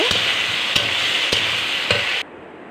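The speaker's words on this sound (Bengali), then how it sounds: "লবণ হলুদ দিয়ে ভেজে নেব একদম লাল লাল করে তারপরে দিয়ে দেব কাঁচা লঙ্কা আবার আর একটু ভেজে নেব" Vegetables frying in oil with salt, turmeric and green chilies: a steady, close hiss of sizzling broken by four evenly spaced stirring knocks, then cutting off abruptly near the end.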